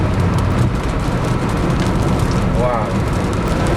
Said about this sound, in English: This rain falling at me is from these cumulus clouds that were formed from the outflow.